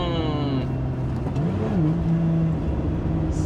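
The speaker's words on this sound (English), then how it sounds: "I also really love the little valve here that opens up with the throttle." Lotus Emira sports car engine revving in a steady drone that rises and dips as the throttle blips and the exhaust valve opens, loud and close throughout with no talking.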